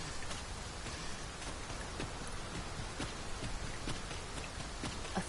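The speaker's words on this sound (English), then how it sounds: "We must be really down on our luck to get caught out in such a downpour." Heavy rain pours steadily in the video game Dragon's Dogma 2, a dense continuous downpour with scattered louder drops and faint clopping hooves beneath, no voices.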